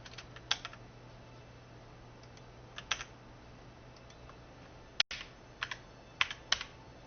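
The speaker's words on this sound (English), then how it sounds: "Why is my keyboard not working?" Someone is typing on a computer keyboard during a Star Citizen gaming session. Sparse, quiet key clicks come in small bursts over a low steady hum.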